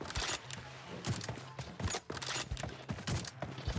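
Rapid bursts of gunfire ring out in PUBG Mobile during a 1v1 team deathmatch, a dense string of loud repeated shots with brief gaps, close and continuous under faint game noise.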